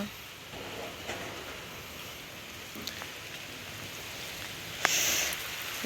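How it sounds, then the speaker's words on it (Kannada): Steady rain pattering on surfaces of a balcony garden, a continuous soft hiss with occasional louder drips and a brief sharper splash. "ಮಳೆ ಬರ್ತಾ ಇದೆ"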